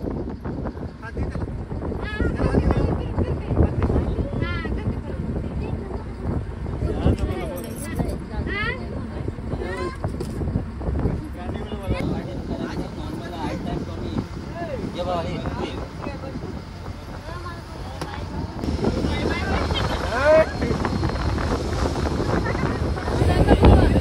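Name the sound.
boat ride on water ride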